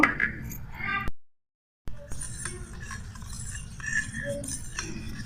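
An egg is stirred into a flour batter in a bowl for a small child's recipe, giving light, scattered clinks and scrapes of a utensil against the bowl, with a short fully silent gap early on.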